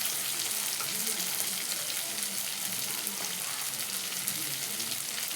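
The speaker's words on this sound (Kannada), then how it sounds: "ಬರೀ ಎಣ್ಣೆಯಲ್ಲೇ ಕುದಿತಾ ಇದೆ ಅದು." Chillies frying in plain oil for a village-style spicy side dish, a quiet, steady sizzle with soft bubbling and faint stirring, and nobody speaking.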